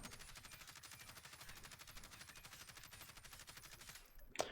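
Rapid, steady automatic fire from a Kilo rifle in Warzone, a continuous stream of evenly spaced shots at moderate level, ending abruptly with a short click.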